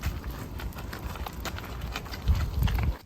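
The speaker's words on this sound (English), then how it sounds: "I went and picked up this horse named Pelican." A horse walks on a farm, its hooves giving a steady muffled clip-clop over heavy low rumble and handling noise, growing louder toward the end.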